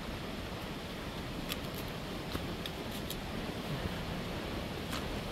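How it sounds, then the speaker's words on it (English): A waterfall on Porters Creek Trail in spring gives a steady, broad rushing roar, constant and moderately close, with no voices. "We're just about to the waterfall now."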